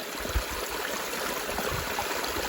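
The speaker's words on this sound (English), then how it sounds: "I got flowing water here." Steady, close rushing of a small flowing stream beside a hiking trail on BC's Sunshine Coast in fall, a continuous watery hiss with low gurgles and no voices.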